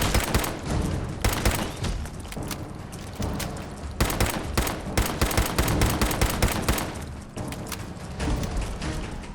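Dense, rapid gunfire from a Fallout 4 firefight near Tenpines Bluff, with overlapping bursts and shots crackling steadily for the whole stretch, loud and close with no talking.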